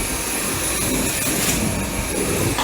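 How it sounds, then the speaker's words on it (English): A vacuum cleaner runs steadily across a house floor, a loud, continuous whirring roar with a high whine held throughout, close and alone. "Vacuuming the floor."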